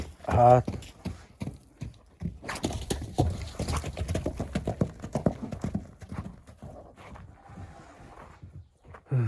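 Horses' hooves clip-clopping at a steady walking rhythm, close by, with a brief whinny at the start and people talking over the hoofbeats.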